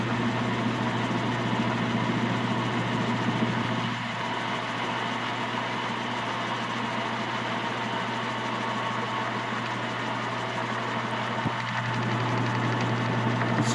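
A Searl magnetic roller wheel spins with a steady, loud mechanical hum and drone that holds throughout, with only slight dips in intensity as it slows.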